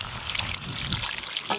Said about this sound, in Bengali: মাংসটা ভালো করে কষানো হয়ে গেল, এবার জল দিয়ে দেবো।